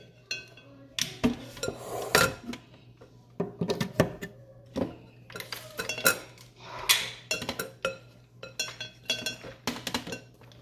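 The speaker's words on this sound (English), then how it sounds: "And we're gonna start mixing." Banana cake batter being mixed in a bowl gives repeated clinking and scraping of utensil against dish, irregular close knocks and clatters spread across the whole stretch, with no talking.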